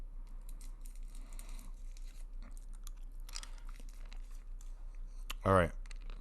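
Faint crinkling and rustling of a small cough drop wrapper close by, with a brief louder crackle near the end.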